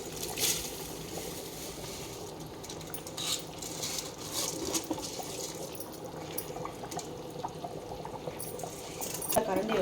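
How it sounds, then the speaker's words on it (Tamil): Drained soaked rice goes into a pot of boiling water for chicken biryani, with a continuous bubbling, pouring wash and light clinks of a pot and utensil, while a person talks throughout. "இப்போ வந்து அரிசி சேர்த்துக்கிறேன்."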